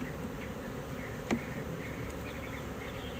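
Honey bees buzz around an open hive during a February inspection as frames are slid along, a faint, steady insect hum with a single brief knock partway through.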